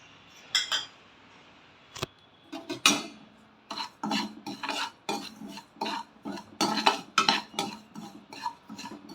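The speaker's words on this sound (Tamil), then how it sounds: "அதே கடாயில் இப்போ நம்ம ரவையையும் பொன்னிறமாக வறுத்து எடுத்துக்குவோம்" Semolina (rava) roasting dry in a kadai, with rhythmic scraping and rasping stirring strokes against the metal, close and fairly quiet with short gaps between strokes.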